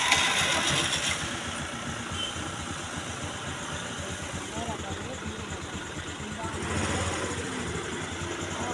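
A car engine starts and settles into a steady idle during a driving lesson in Madurai, with a continuous mid-range engine rumble under nearby voices.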